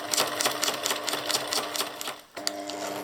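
A sewing machine stitches waterproof fabric for an outdoor bench cushion, a fast, steady mechanical chatter that runs loud and close, stops briefly, then starts up again.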